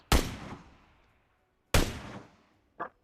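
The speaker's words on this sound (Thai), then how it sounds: "ที่ยิงตรงนั้นอะ" Two sharp gunshots ring out in the mobile battle royale game PUBG Mobile, each with a long fading echo tail, and a softer, shorter pop follows near the end.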